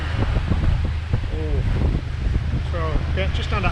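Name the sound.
wind while sailing a boat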